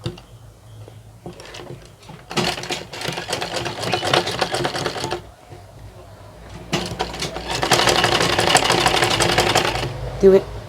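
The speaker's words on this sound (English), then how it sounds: "So I've held it down with the machine stitch" Sewing machine running in bursts while top stitching down the pocketing of a single welt pocket, a fairly loud steady whir that stops and restarts, with a voice talking over parts of it.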